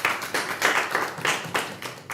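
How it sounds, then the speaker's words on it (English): Scattered clapping from a conference audience at a multi-stakeholder dialogue, coming in uneven bursts that swell and ease over a couple of seconds, fairly close and moderately loud with no voices. "we could give him a round of applause"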